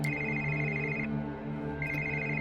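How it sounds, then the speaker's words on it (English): An old-style cell phone ringtone plays a steady, bright electronic tune inside a vampire video game, Vampire the Masquerade - Coteries of New York, pausing briefly midway and then resuming over a low synth music bed. "waking up on the tune of an old cell phone ringtone"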